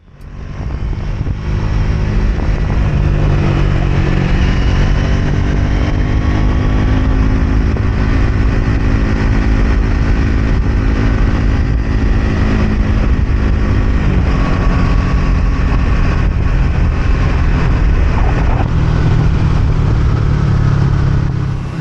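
A Triumph Speed 400 motorcycle ridden in sixth gear, its single-cylinder engine droning loud and steady from close by, with rushing wind noise and a slight shift in engine tone partway through.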